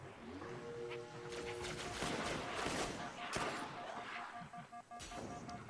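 Shotgun blasts and bursts of combat from the video game Halo: Spartan Strike, with loud, dense impacts and crashes layered over a steady game soundtrack, a sharp hit standing out near the middle.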